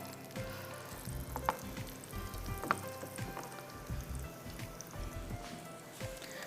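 Small lentil pakoras deep frying in hot oil, giving a steady soft sizzle and bubbling with occasional pops, close and fairly quiet with no talk.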